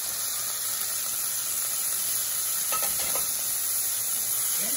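Cherry tomatoes dropped into a pan of puttanesca sauce, giving a steady, loud sizzle and hiss throughout with a few faint stirring knocks and no talk.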